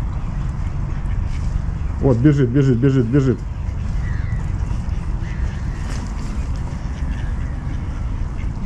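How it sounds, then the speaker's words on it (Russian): Ducks at a puddle in a St. Petersburg city park let out a rapid burst of about five nasal quacks, close and loud over steady outdoor background noise, with a person speaking briefly. "Утки атаковали местную лужу."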